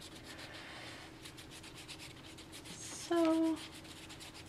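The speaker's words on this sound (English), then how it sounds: "I'm just rubbing it around" A finger rubs yellow paint around an art journal page, giving a steady soft scraping texture close up, broken near the end by a brief tonal squeak.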